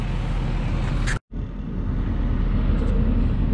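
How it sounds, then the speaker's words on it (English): A truck with snow chains fitted, moving forward a foot or two on a mine road, gives a steady close engine rumble and low road noise that cuts out for a moment and then resumes. "we just drive the truck forward a foot or two"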